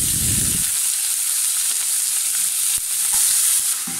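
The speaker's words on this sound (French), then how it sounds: "ici on va venir déposer le bœuf haché" Minced beef seasoned with salt and pepper frying in olive oil, a continuous bright hiss of sizzling with a few soft stirring taps and a brief low thump at the start, heard close and alone.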